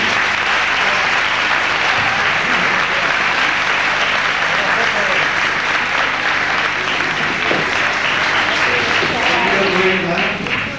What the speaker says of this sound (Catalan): Guardem també un flot d'aplaudiment.